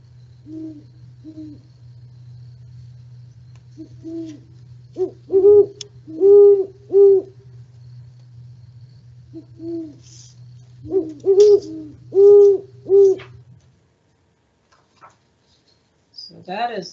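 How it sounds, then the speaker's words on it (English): Great horned owls hoot back and forth in a duet, several deep, rhythmic hoots in two separated bursts, one bird joining the other, clear and fairly close over a steady low hum. "So that is the sound of a great horned owl."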